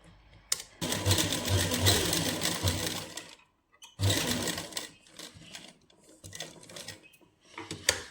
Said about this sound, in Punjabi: ਹੁਣ ਆਪਾਂ ਨਾ ਇਹਦੇ ਉੱਪਰ ਉੱਪਰ ਇੱਕ ਸੀਨ ਲਾ ਲਾਂਗੇ ਇਸ ਤਰ੍ਹਾਂ